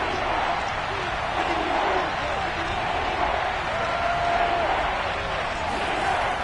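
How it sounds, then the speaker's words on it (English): Stadium crowd noise from the Madden 22 football game, a steady, dense roar with no breaks, filling the whole clip at even loudness. "this crowd's going to get even louder"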